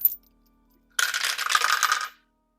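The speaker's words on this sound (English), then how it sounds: "Can you guys hear my dice rolling?" Dice clatter and tumble down a tabletop dice tower for about a second, a bright rattling burst heard alone and close, with nothing else around it.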